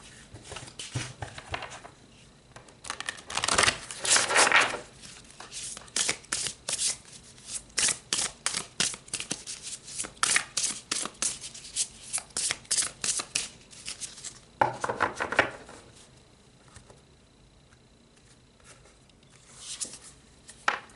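A deck of tarot cards is shuffled in two brisk riffle bursts of papery flutters, followed by a string of soft taps and slides as cards are handled and laid out close by. No voices are heard.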